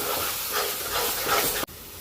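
Tomato puree masala for an egg curry roasts in a pan with a dense, even hiss of sizzling, cut off by a sharp click near the end.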